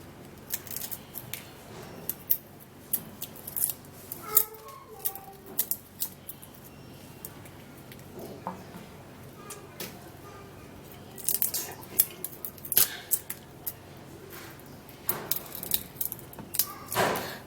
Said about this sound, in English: So I'm going to be peeling the peel of the garlic.